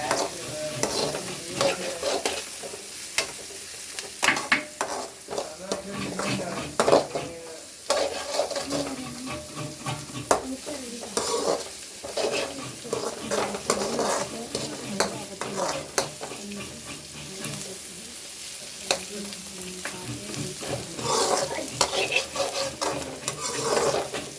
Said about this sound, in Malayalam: അതിന് ശേഷം ഉഴുന്നുപരിപ്പ്, സവാള, ഇഞ്ചി, പച്ചമുളക്, ക്യാരറ്റ് ഇട്ട് ഇളക്കുക.